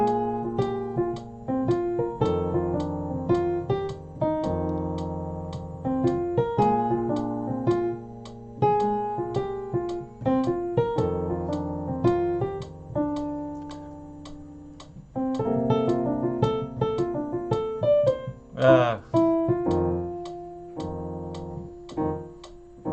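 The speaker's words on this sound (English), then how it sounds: "So now we're going to try to play the melody using just those simplified shells." Piano plays an F blues melody with simple left-hand shell voicings, clear single-note lines over sparse chords at a moderate tempo, closely recorded and solo, with a brief slip in the middle and no talking over the playing.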